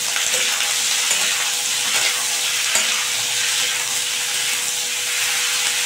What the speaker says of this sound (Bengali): এবার এখানে ভালো করে মিশিয়ে নিচ্ছি।